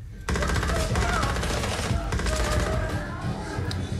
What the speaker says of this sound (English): the guns are like, they're not silent even though they're suppressed. They're like still kind of loud